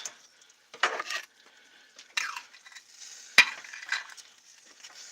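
Food is stirred around in a pan from a toaster oven, giving a few separate metallic scrapes and clinks with quiet gaps between them.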